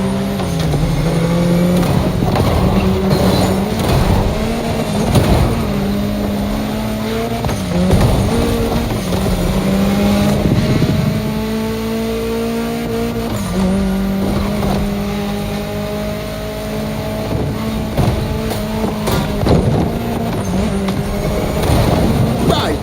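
Racing-game car engine roars continuously in The Crew Motorfest while driving through a state capital town, with pitch rising and falling through gear changes and occasional tire squeals, loud and steady throughout.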